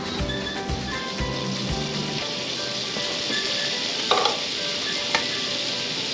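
New York strip steaks sizzling in butter on a hot Blackstone griddle, a loud, steady crackling hiss that fills the whole clip, with a few brief clatters early on and a couple of sharp pops later.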